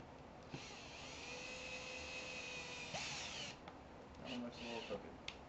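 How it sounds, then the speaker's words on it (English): A power drill whirs in steady bursts with a Phillips bit, its pitch shifting as it drives screws into the wood of a cigar box guitar, with brief pauses and a short higher whine near the end. "We're going to put our string guides in by using our Phillips drill bit"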